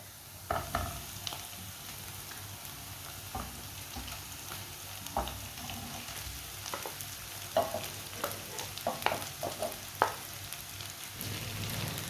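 Onions, carrot and cabbage with a masala mix fry in a pan with a low, steady sizzle, punctuated by scattered clicks and scrapes of stirring that grow busier toward the end.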